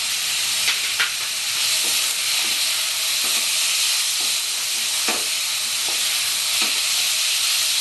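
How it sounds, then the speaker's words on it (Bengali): Minced meat with cumin paste sautés in a hot pan, giving a continuous hissing sizzle. Occasional scraping clicks of a spoon stirring the mixture sound throughout, and no one speaks. "আমি খুব ভালো করে এখন কষব কিমাটা"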